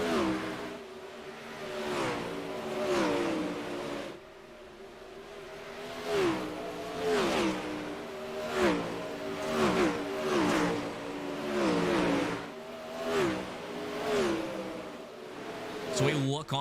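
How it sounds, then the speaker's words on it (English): Sprint car engines in an iRacing dirt race roar and rev continuously, rising and falling as cars accelerate and lift through the corners, with several machines overlapping under a commentator's voice. "The 17 machine of Kyle Madsen gets way loose"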